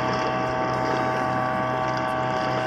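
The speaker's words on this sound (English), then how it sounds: "he's got these noisy bloody outboard going" A noisy outboard motor drones steadily on a boat out on the Gippsland Lakes, a constant, fairly loud engine hum with no pauses and no talk over it.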